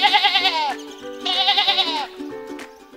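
Sheep bleat in a cartoon farm setting, two loud, wavering calls back to back, followed by a fainter third call, with no talk over them.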